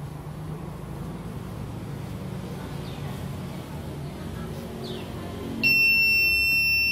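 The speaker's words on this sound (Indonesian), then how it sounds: "Ada pergerakan dan ada suara alarm." Motion triggers an Arduino-based SMS security system's buzzer alarm, which cuts in near the end as a piercing, steady electronic tone over low background noise, close and loud.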